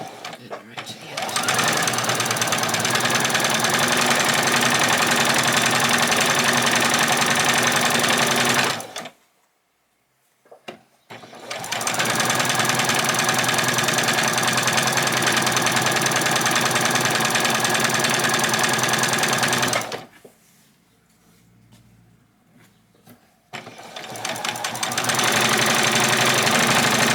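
Sewing machine stitching fabric ruffles along a quarter-inch seam, a loud close rapid mechanical whir running in long bursts, stopping twice for brief pauses before starting up again.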